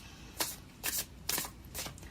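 Tarot cards being shuffled by hand, four distinct riffling bursts spaced about half a second apart, close and crisp with quiet gaps between.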